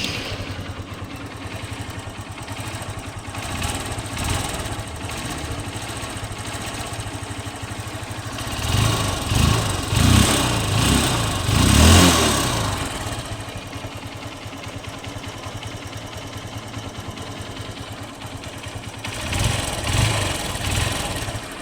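A 2011 Honda Unicorn motorcycle engine turns over and settles into a steady idle close by, briefly revving louder in the middle before dropping back to a low putter.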